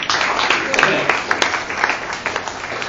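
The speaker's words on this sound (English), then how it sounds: "Another round of applause for these guys." Audience applause at a family reunion gathering: a steady wash of many hands clapping close by, with sharper individual claps popping out, sustained for a few seconds.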